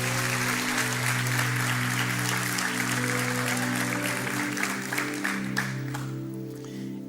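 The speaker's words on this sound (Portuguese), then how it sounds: "dá o melhor aplauso que você pode dar ao Senhor" A church congregation applauds during a morning Portuguese-language worship service, steady sustained clapping throughout with sustained background music beneath, tapering slightly at the end.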